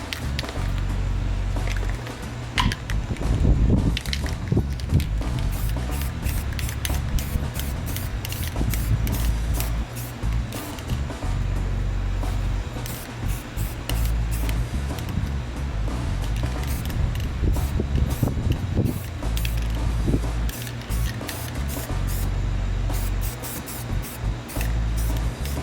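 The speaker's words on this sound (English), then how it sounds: "This guy will spray with some primer." Primer sprays from an aerosol can onto a car part during a works turbo kit install, a steady close hiss lasting throughout with rapid pulsing texture and occasional rattling.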